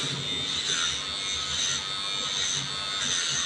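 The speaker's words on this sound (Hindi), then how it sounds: "पीछे वाले बालों से मिलाते हुए ट्रिमर चलाएंगे और एक लेवल ट्रिमर चला के कट करेंगे।" An electric trimmer buzzes steadily up close as it cuts a girl's hair, evening a section level with the hair at the back; the high whine stays continuous with slight shifts as it moves.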